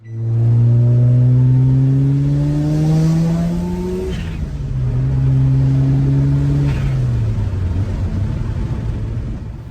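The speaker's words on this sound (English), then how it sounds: "This car still has accelerated warm-up on it. Most people delete that off RX-7, but this one still has it. So I think we're at like 1500 RPM right now." A Mazda RX-7 FD rotary engine with a hi-flow catalytic converter idles high on accelerated warm-up, a loud, close, buzzy drone that steps down in pitch partway through and continues alone.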